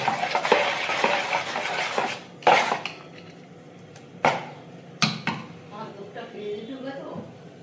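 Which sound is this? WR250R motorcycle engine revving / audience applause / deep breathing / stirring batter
stirring batter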